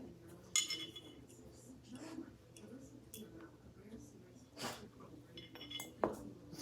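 Small metal parts of a Glock 17 third-generation pistol clink and tick against each other during disassembly: sparse, close, quiet taps and clinks scattered irregularly over a hushed background.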